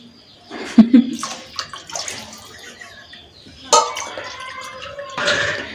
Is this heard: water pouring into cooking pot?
yes